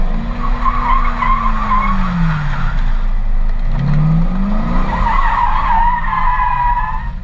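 A remote-controlled Corvette model car drives and skids, its motor whining up and down in pitch while tires squeal in long sliding sweeps, loud and close throughout with no talking.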